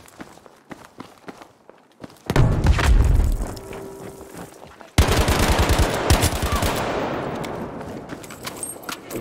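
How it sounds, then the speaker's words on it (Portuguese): Battlefield V gameplay: a loud grenade blast goes off nearby, then a sustained rapid burst of machine-gun fire rattles on, with scattered footsteps and quieter shots before it. "Granada lançada."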